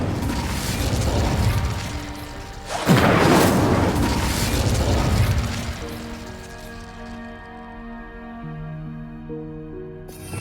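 In the Hogwarts Legacy game, an Incendio fire spell bursts with a loud whooshing boom, then fades into a lingering rumble and tonal ringing.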